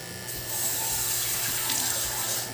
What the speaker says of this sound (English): when you're cleaning your airbrush, what you need to do is, you need to pour in water